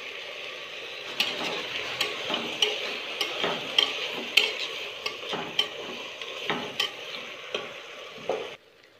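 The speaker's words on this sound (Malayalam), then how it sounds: "എന്നിട്ട് നന്നായിട്ടൊന്ന് മിക്സ് ചെയ്ത് കൊടുക്കാം" Beef curry being stirred in a frying pan, with a steady sizzle under repeated spoon scrapes and clinks at a regular pace, close up and with no voices, ending abruptly.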